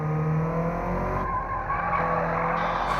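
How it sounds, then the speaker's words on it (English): Tires squeal and slide continuously under a droning car engine, a steady skidding sound from a racing game, with no talking. "that sliding noise is bad."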